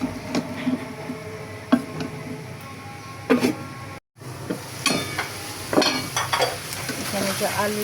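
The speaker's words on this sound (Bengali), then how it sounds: "এখানে যে আলু দিয়ে কাঁকরোল দিয়ে কষাচ্ছি মশলার সাথে।" Potatoes and spiny gourd sautéing with spices in a pan, with a steady sizzle broken by repeated scraping strokes of a spatula against the pan and one brief gap.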